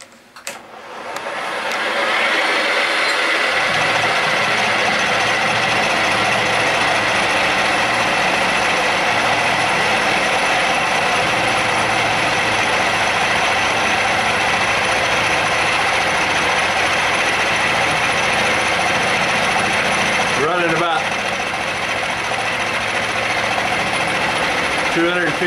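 Milling machine with a 1.25-inch two-flute cutter hand-fed through cast iron, a loud continuous mechanical grinding chatter with gear whine that holds steady for over twenty seconds, with a brief disturbance near the end.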